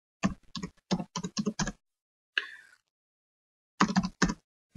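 Typing on a computer keyboard while entering data in Excel: close, crisp clusters of key clicks in short bursts, with a pause and a single softer tap between them.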